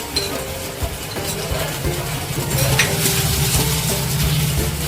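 Cumin seeds and ginger paste with bay leaf sizzle loudly in a pan over low flame, stirred continuously with repeated spoon scrapes against the metal.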